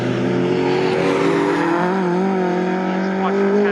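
A saloon race car laps the Snetterton circuit, its engine note rising and shifting through gears in a loud, continuous wail, with commentary talk running over it.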